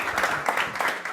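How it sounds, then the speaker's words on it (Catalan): A studio audience claps at a board game show, a short dense burst of applause that fills the whole moment without a break. "Un aplaudiment"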